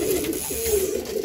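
Domestic pigeons coo in soft, repeated throaty murmurs after coming back from their morning flight, several birds close by with a steady low hum of other coos underneath and no talking.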